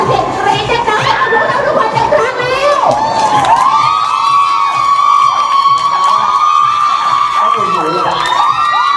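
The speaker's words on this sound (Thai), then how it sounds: "ขอพลังมวลชนขอเสียงกรี๊ดดังๆ" Crowd at a movie fan meet-and-greet screaming and cheering loudly, with shrill shrieks and whoops sustained throughout, close and dense with voices mixed in.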